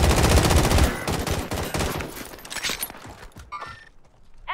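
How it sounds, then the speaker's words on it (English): Rapid, dense gunfire from a Call of Duty: Warzone match, loud and continuous bursts of shots that thin out toward the end, with a few sharper cracks near the close. "Enemy! I'm taking fire!"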